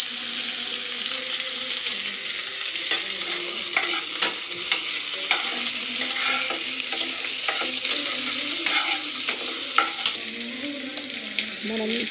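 Chopped capsicum and mixed vegetables fry in a pan for dalia, giving a loud, constant sizzle punctuated by repeated scraping clicks of stirring throughout, with no voices.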